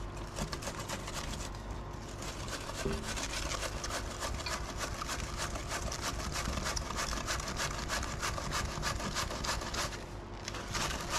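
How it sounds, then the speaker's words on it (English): Cabbage is sliced on a mandolin blade for pub coleslaw, a rapid, continuous run of rhythmic scraping strokes, close and steady for several seconds, with no talking. "Through the mandolin it goes, nice and fine."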